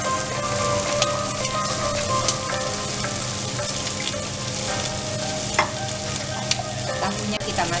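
Tofu frying in a pan, a loud, dense, continuous sizzle crackling evenly throughout with occasional sharper pops and light stirring.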